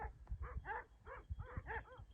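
Several black Anatolian shepherd dogs bark on open steppe, a run of repeated harmonic barks and yips in quick bursts, fairly close and loud, with no talk over them.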